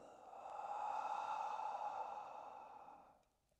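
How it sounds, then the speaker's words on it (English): A long, slow exhale through the mouth during yoga breathing, a soft airy breath rising, holding steady for a couple of seconds, then tapering away quietly. "Exhale through the mouth."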